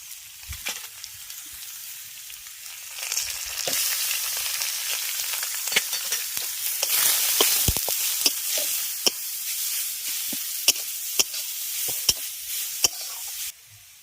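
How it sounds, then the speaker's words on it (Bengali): Ginger, green chili, grated carrot and beet sizzle in a hot pan, a hissing fry that swells and steadies while a utensil repeatedly clicks and scrapes against the pan as it stirs. "আদা আর কাঁচা লঙ্কাটাকে আগে একটু ভেজে নিচ্ছি"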